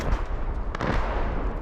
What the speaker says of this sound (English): Incoming missiles send men, women, and children scrambling to get away, even as explosions ring out